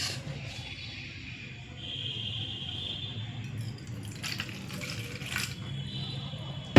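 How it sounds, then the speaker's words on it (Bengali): Water is poured into a cooking mixture, a soft continuous trickle and splash that rises in the middle and ends with a brief clatter, with faint background noise. "আমি একটু জল দিচ্ছি, আপনারা পারলে দুধও দিতে পারে"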